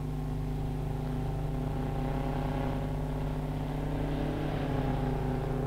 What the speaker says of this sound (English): Powerful as their own engines are, the hungry scrapers work even more effectively with the added pushing power behind